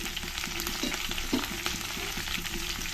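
Chopped onion, capsicum and curry leaves with garlic and ginger frying in oil, a steady close sizzle broken by a few louder scraping stirs, with no voices.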